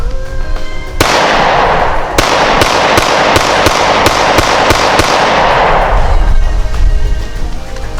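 A Springfield Hellcat pistol fires steel-cased ammunition in a rapid string of about eight sharp, loud shots at steady spacing, ringing out with no talking.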